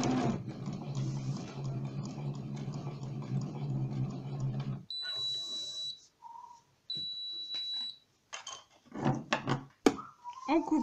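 A sewing machine stitches a short reverse run to lock the end of a seam on a stirrup cover, with a steady motor whir for several seconds followed by quieter clicks, beeps and handling noises.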